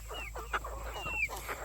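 Young chickens and pullets, all under a year old, cluck and chirp in a steady close-up chatter, with a few sharper calls punctuating the soft, continuous murmur of the flock.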